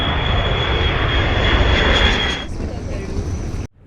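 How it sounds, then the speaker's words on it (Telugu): Steady, loud engine drone fills the cabin of an airliner on a Hyderabad to Coimbatore flight, easing to a softer hum partway through before cutting off abruptly. "Hyderabad to Coimbatore flight"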